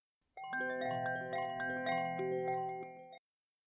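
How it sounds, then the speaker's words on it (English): A doorbell chime passed through a low-pass filter gives a short run of soft, muffled tones that overlap and sustain for about three seconds, faint and alone, then stop abruptly. "If I apply a low pass filter"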